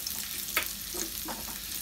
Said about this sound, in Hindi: तेल डालते ही इसके अंदर जाएगा ये चॉप किया हुआ अदरक यानी कि जिंजर, और चॉप किया हुआ लहसुन यानी कि गार्लिक